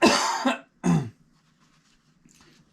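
A person coughs twice in quick succession, close and sharp, followed by a quiet stretch with faint background sounds.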